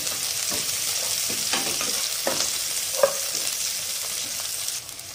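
Green chilies and ginger sauté in a pan for a beef stew with a constant crackling sizzle, broken by several scraping stirs and one sharp tap, and no one speaking.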